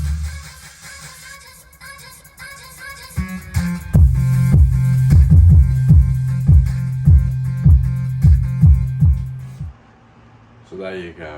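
Car subwoofer and amplifier in a Ford Connect van thumping out bass, loud rhythmic low pulses for about six seconds after a quieter opening, then cutting off.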